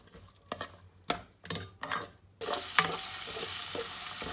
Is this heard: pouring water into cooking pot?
no